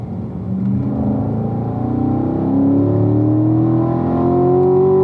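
A race car engine accelerates hard on a track, heard from inside the car. The droning note climbs steadily in pitch and loudness over a few seconds, with no talking.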